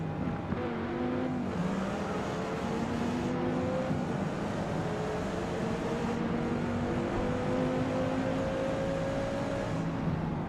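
A Viper race car engine in a racing video game at Silverstone whining at high revs, rising through the gears in repeated climbing pitches, steady and loud without pause.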